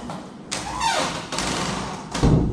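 Heavy wooden bedroom door that won't shut, giving a few dull thuds and a short creaking squeak as it is pushed, close and fairly quiet.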